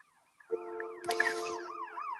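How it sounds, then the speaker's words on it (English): A fire truck or ambulance siren passing nearby: a sudden loud horn blast followed by a rising and falling wail, fairly close, with no talking. "The fire truck. Or ambulance."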